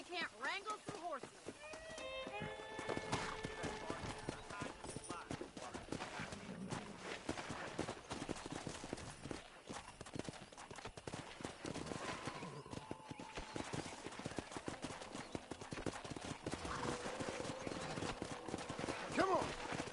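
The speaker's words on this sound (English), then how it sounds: "Let's see if we can't wrangle some horses." Horses in the Red Dead Redemption video game trot and gallop with steady, rhythmic clip-clop hoofbeats that continue throughout, close and fairly loud, mixed with game ambience and occasional voices.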